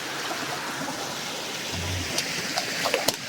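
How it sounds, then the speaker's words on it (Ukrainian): Winter waterfall running beneath an icy rock cliff with hanging icicles in the Carpathians, a steady hissing rush of water with a few sharp drips or splashes near the end. "І біжить такий водоспад."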